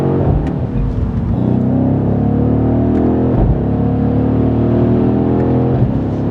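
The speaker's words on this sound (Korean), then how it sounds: "배기가 터지는 게 느껴지거든요." A BMW M850i with a V8 engine roars hard under acceleration, its exhaust note climbing through several gear pulls, loud and close from inside the car, with no talking.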